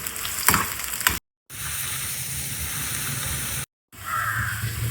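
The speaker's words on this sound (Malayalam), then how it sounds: "ഇതേ പാനിലേക്ക് തന്നെ നമുക്ക് അതുകൂടെ ചേർത്ത് കൊടുക്കാം. ഇതൊന്ന് നന്നായിട്ട് വഴറ്റിയെടുക്കാം." Chopped nendran plantain sautéing in a hot pan for kaipola, a steady close sizzle broken by two brief silent gaps, with a few stirring scrapes.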